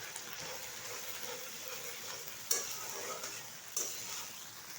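Turmeric and chili powder fry in hot oil for a tel koi fish curry, a steady low sizzle under stirring, with two sharp scrapes of the spoon against the pan.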